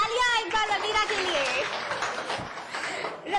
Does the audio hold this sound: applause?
yes